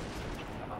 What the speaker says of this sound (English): I just sniped him.